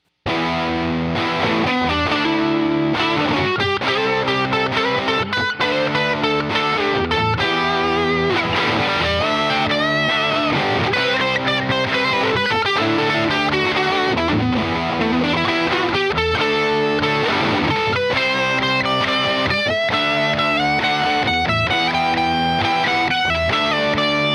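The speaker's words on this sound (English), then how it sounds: "let's just see what the natural minor E Aeolian sounds like" A distorted electric guitar runs through the E Aeolian natural minor scale, playing a steady, loud stream of picked notes and phrases with effects, with no talking.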